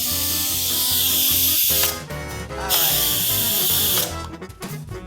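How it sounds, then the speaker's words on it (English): Steam vents from an Instant Pot pressure cooker in a loud, steady hiss that cuts out and starts again, with tonal sounds running beneath it. "with the Instapot, you want to make sure, because this is a pressure cooker, you want to make sure that we're venting it before we open it"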